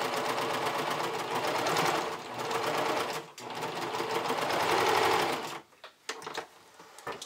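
A sewing machine runs a basting stitch along the lower edge of an underwired bikini cup, a fast steady mechanical whir for several seconds before slowing and stopping in a few short stuttering bursts, close by.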